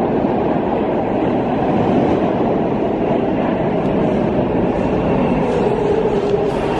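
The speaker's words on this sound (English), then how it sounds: "So this train came in." A train arriving at New Brunswick station, New Jersey, rumbles steadily on the rails, a loud continuous roar with faint clattering, close by and unbroken, with no voices.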